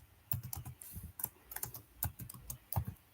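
Computer keyboard typing as code is written, with quick irregular clusters of crisp key clicks and short pauses, close and fairly quiet, with no speech.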